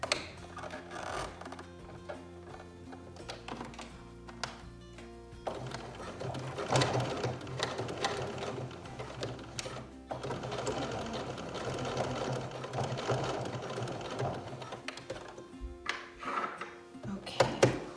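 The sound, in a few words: sewing machine straight stitching with zipper foot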